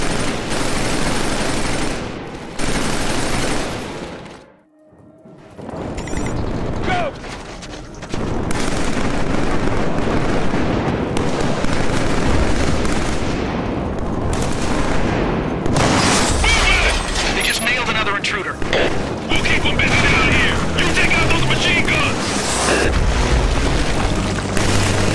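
Sustained machine gun covering fire and booming explosions in the video game Killzone 3, dense and loud for most of the stretch, broken by a brief lull, with shouted voices mixed in.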